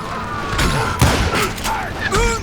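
Gunfire in the Western shooter game Call of Juarez: Gunslinger: a few loud, sharp shots and booming reports crack out over a busy game soundscape, with tonal whines between the blasts.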